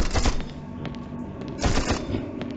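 An automatic weapon in the video game You Are Empty fires in rapid bursts, with two clusters of sharp, close, loud shots separated by a brief lull.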